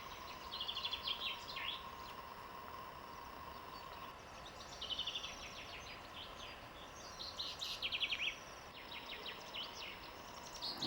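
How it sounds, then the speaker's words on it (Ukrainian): Chaffinch singing in a spring woodland by a bay, with three repeated, descending song phrases, faint and distant over a steady background hum. "Зяблик співав."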